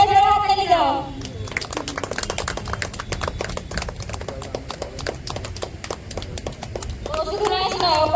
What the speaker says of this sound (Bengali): সবাই জোরে হাততালি দাও।